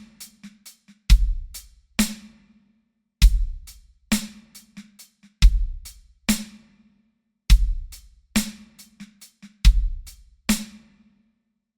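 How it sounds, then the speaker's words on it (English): A drum kit plays a repeating breakbeat groove, with punchy kick drums, crisp hi-hat ticks and sharp snare hits mixed with softer snare ghost notes, looping in a steady tight rhythm. "our groove is now starting to sound like a breakbeat pattern."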